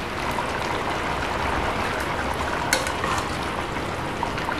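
Spicy potato curry bubbles in a covered pot, giving a dense, steady, close rushing simmer with small pops throughout and no voices.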